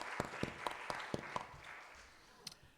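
A church congregation claps at a Sunday service, a few sparse hand claps ringing out softly at a distance before fading away over a quiet room.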